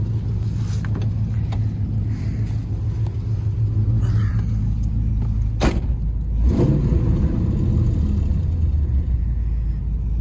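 A Trans Am engine idling steadily after a radiator repair: a deep, continuous rumble close by, with a few brief clanks and shifts in tone partway through.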